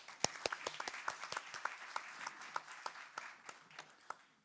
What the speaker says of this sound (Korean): 박수로 환영해 주시죠.